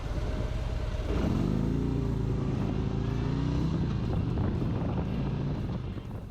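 A 2017 Harley-Davidson Road King motorcycle with a Milwaukee-Eight engine drones steadily at cruising speed on a highway, with a deep throbbing rumble and wind rushing past.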